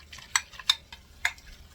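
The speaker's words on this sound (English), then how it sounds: "Mix this up nice and smooth." Spoon stirring a sauce mixture smooth for a creamy sausage and kielbasa pasta stew, three sharp scraping clinks against the pot amid soft swishing, close and fairly quiet.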